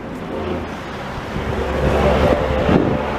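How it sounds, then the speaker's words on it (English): A loud diesel truck with straight-pipe dual exhaust rumbles past close by on a Montreal street, a deep droning exhaust growing louder over a steady wash of road and wind noise. "Do you hear how loud that rig was? This is straight pipe, dual exhaust, diesel."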